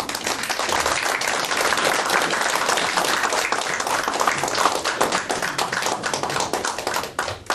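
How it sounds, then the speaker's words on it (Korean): Sustained applause from a roomful of people at a small interfaith peace gathering, welcoming a lecturer on Islam, steady and energetic throughout, tapering slightly near the end. "선생님을 모실 때 박수로 환영해 주시기 바랍니다."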